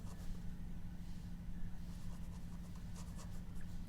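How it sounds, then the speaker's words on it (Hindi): Writing on a board during an English grammar lesson, with a steady scratching of the marker or chalk strokes over a constant low hum of room noise. "तो यहां पर लिखेंगे"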